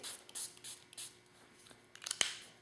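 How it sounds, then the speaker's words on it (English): Several short hissing spritzes of a small alcohol spritzer pen, close and soft, with a sharper click near the end. "And then just give it a good spray."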